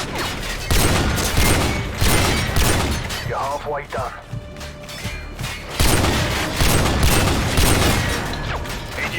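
Gunfire hitting a car in Call of Duty: Modern Warfare 2, rapid bursts and thudding impacts rattling over a voice talking, with game sound effects and mechanical clanks mixed in.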